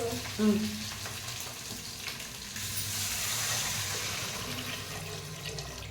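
Water pours steadily into a pot with a rushing, splashing wash of sound, close by and continuous, with a faint clink near the start.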